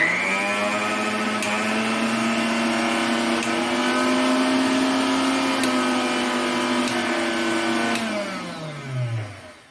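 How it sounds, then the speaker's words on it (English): An electric mixer grinder runs steadily at close range, a loud motor whine with a strong harmonic hum, then winds down at the end as power is cut. "I am going to open up this mixer grinder. And before that, let me show that it is in working condition."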